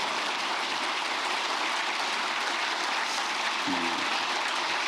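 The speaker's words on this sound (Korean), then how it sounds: "이럴 때 박수도 한번 하세요." A lecture hall audience claps at a public officials' talk on abuse of authority, a dense steady patter of many hands sustained at moderate level throughout, with no voices over it.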